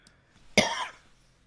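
One short, sharp cough from a single person, close and fairly loud, alone against near silence.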